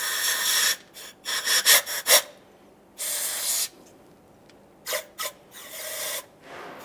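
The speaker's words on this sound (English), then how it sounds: "I'm going to continue on with some compressed air inside of each of the mounting bolt ports." Compressed air blasts in short hissing bursts into the mounting bolt ports of a 5.2L V8 engine on a 1994-2001 Dodge Ram 1500 during water pump replacement, the bursts loud and close and separated by quiet gaps.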